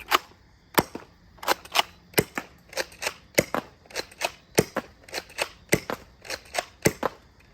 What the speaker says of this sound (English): It's shooting 5 shots at once.